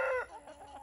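Chickens cluck close by, fed potatoes for breakfast: a loud burst of clucking opens the moment, then quieter clucks follow.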